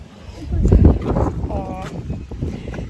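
Strong wind blows outdoors at a home, rumbling heavily and buffeting the microphone in surges, with a person speaking over it.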